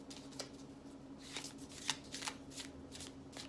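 A deck of Night Sky playing cards, printed with constellations, is shuffled close by in a quiet room, with repeated riffling bursts and soft card slaps.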